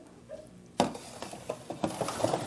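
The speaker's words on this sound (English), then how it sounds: "I'm going to stir that up" A spoon stirs an orange pineapple Italian ice mixture in a container, starting with a sharp clack and continuing as a rhythmic series of close, moderately loud scrapes and taps.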